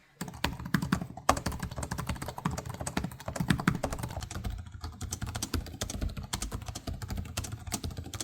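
Fast, steady typing on a Lenovo Legion Pro 5 laptop keyboard, with clicky keystrokes in a dense, close, continuous patter and no talking.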